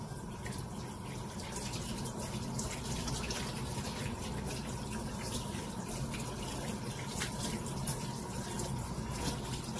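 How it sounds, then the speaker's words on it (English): Water runs steadily from a shower tap while a curly-haired Yorkie-poodle mix dog is washed, a constant close hiss and splash with no voices. "How's the water, Peppy?"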